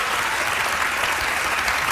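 A television talk-show studio audience breaks into full, continuous applause, a thick wash of clapping hands at steady loudness filling the whole moment.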